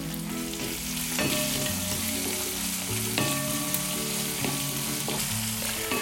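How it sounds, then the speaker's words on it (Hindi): Long-sliced medium onion sizzles steadily in a hot pan, with occasional clinks and scrapes as it is stirred; no voices. "अब हम इसको अच्छे से हिला लेंगे और जो अनियन है उसको हल्का सा सुनहरा होने तक पकाएंगे"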